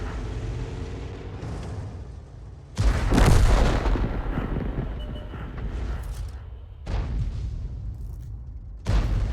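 Self-propelled artillery fires in a World of Tanks style tank battle featuring the Hummel and M53/M55 guns: a heavy booming blast at about three seconds rolls into a long rumbling decay, with lighter thuds later amid steady engine and battlefield noise.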